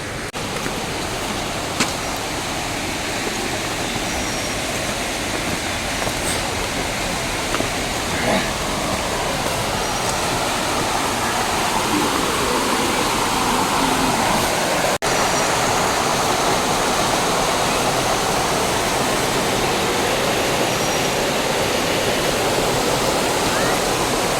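A river in Coorg flows with a loud, continuous rush of water that fills the whole stretch evenly, with no clear breaks or voices.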